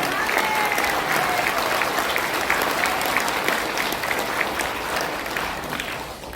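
A crowd gives sustained, loud applause at a Korean political gathering about founding a Syngman Rhee university, steady clapping filling the whole stretch before tapering slightly at the end.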